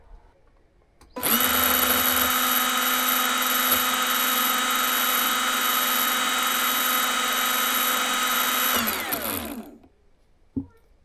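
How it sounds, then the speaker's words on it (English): A small electric motor of a Makita DUN461 cordless pole hedge trimmer, blade removed, whirs steadily at a high pitch for several seconds, then winds down to a stop, followed by a faint click. "let's see what this is like as regards motor noise without having the blade attached"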